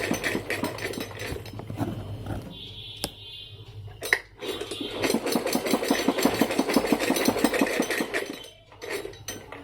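A sewing machine stitches along the belt of a pair of pants, a fast, even mechanical chatter heard up close in short bursts with brief pauses between runs.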